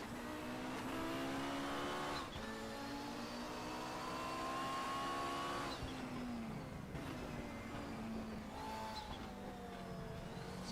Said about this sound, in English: going to hop on board here with Randy Cruz for a lap around in the Audi